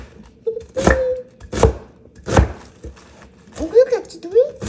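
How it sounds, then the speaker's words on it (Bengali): A knife chops tofu finely on a board in a handful of sharp, evenly spaced thunks, with a voice briefly talking in between the cuts. "বাঁধাকপির মতন করে কুচিয়ে নেব।"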